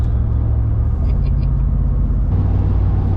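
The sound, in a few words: Ram pickup truck driving past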